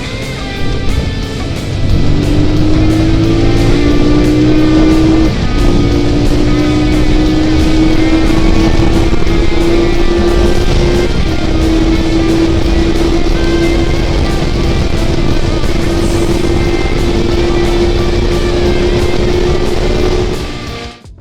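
A QJ Motor SRV 550 road motorcycle riding along, its steady engine drone rising smoothly in pitch as it accelerates, then holding a loud, continuous tone close by for about twenty seconds with no talk.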